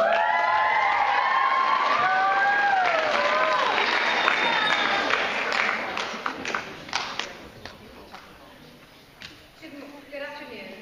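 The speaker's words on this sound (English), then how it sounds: "Another round of applause." Audience applause and some cheering at a public debate event, mixed with overlapping voices and whistle-like tones early on, then thinning to scattered claps as the room quiets.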